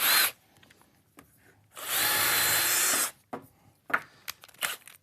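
A power drill drives a screw into wood while building a full-size wooden marble machine prototype, giving one sustained whirring burst of just over a second, framed by short clicks and handling knocks.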